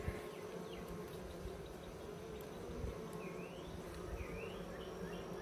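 Honey bees buzz around an open Layens hive, a dense steady drone of many wings close by, with individual bees whining past now and then.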